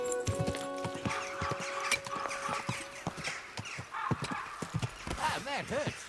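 Horse hooves clip-clop steadily in Kingdom Come Deliverance 2, then a horse neighs in rising and falling whinnies near the end, with a voice talking over the gameplay.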